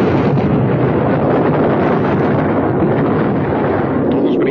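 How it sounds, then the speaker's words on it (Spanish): Recorded explosion played to an audience, a sustained loud broadband roar and rumble lasting several seconds without clear pauses. "esa no fue una explosión muy fuerte"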